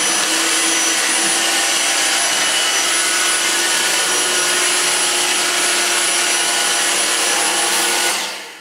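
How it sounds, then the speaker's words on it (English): A Dyson V6 cordless vacuum cleaner running over carpet gives a loud, steady high-pitched whine and rushing airflow that holds for several seconds before the motor switches off and winds down. "now I'm going to pass the V6 over the area"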